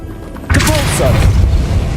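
A Depulso spell cast in the Hogwarts Legacy video game, a sudden loud booming whoosh that bursts in and rumbles on through continuing game effects.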